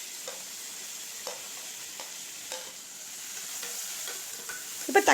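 Ginger and garlic sauté in a pan for a Ramadan nombu kanji, giving a quiet steady sizzle with regular light taps and scrapes of a spoon, ending in a louder clatter.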